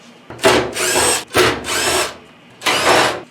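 Power drill backing screws out of a clothes dryer during a heating element replacement, loud close whirring in three bursts with short pauses between, no talking.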